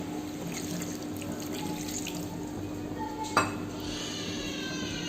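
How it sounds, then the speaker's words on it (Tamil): Water poured from a quarter tumbler into pepper chicken gravy in a pan, a steady close splashing pour with a brief metallic clink partway through. "ஒரு 1/4 டம்ளர் அளவுக்கு தண்ணி ஊற்றிக்கோங்க"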